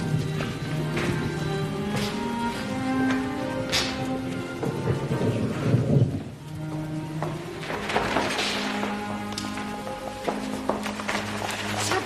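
Rain and low rolling thunder over a hill resort in June, a steady wash of rainfall with deep rumbles swelling and fading, and no talking.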